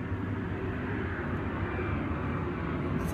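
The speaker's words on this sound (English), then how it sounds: "That's a big plane. You hear that?" A big plane passes overhead as a steady, loud broadband roar that fills the whole clip without letting up.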